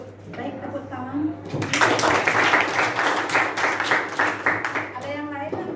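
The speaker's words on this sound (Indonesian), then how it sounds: "tepuk tangan" Classroom applause during a lesson, a group of students clapping steadily and fairly loudly for several seconds, with a voice speaking briefly before and after the clapping.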